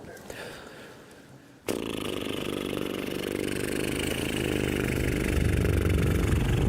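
A riding lawnmower engine sounds from a distance. After a faint start there is a sudden jump to a steady, loud mechanical roar and drone that grows slightly and holds to the end, with no talking.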